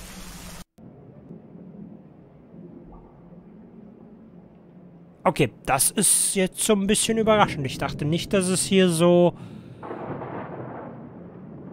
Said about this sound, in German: Oh, Gewittersounds, das ist angenehm.